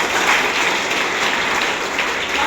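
Applause from an event audience welcoming guests, a dense steady clatter of many hands that stays loud and continuous throughout.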